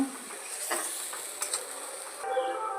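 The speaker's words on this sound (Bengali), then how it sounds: "খুব ভালোভাবে কষিয়ে নেব" Green and dried chilli paste sautéing in a pan, a soft steady sizzle with faint stirring scrapes, close and fairly quiet.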